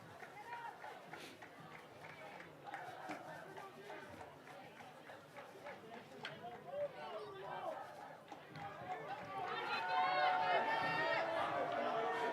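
A large crowd at a high school football game in Grantsburg murmurs and chatters steadily in the distance, swelling louder toward the end, with people talking over it.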